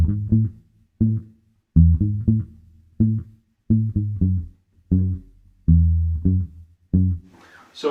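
Electric bass guitar played with a palm-muted thumb for an upright-bass feel: a rhythmic bassline of short, dull, quickly decaying low plucks, a dozen or so notes, close and mellow, with a faint voice at the very end.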